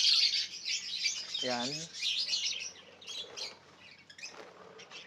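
Budgerigars chirping in a group, bright rapid twittering and warbling close by, with a brief spoken word and a short voiced sound partway through.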